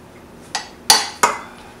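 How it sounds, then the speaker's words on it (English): A metal whisk strikes the side of a bowl while powdered sugar, flour and cocoa powder are mixed, three sharp clinks spaced apart, close and fairly loud, each ringing briefly. "now we're just going to whisk those together"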